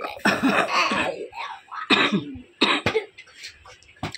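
A woman recovering after childbirth coughs in several harsh bursts with short pauses between them, close and fairly loud in a quiet room.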